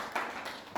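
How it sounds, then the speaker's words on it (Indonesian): A classroom of students applauds a student group with a few brief, light bursts of clapping, quiet and close. "Tepuk tangan untuk kelompok Ibrahim dan kawan-kawan"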